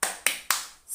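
Three sharp, evenly spaced claps from children in an Islamic primary school class doing the 'tepuk semangat' spirit clap, crisp and close with brief gaps between.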